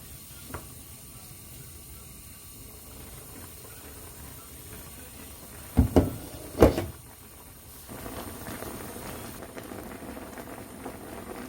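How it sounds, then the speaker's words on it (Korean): Broth with mirin and green onion simmers and bubbles in a pot, giving a soft steady hiss, with a couple of sharp knocks midway and a slightly louder bubbling wash toward the end. "국물이 보글보글 끓고 있죠."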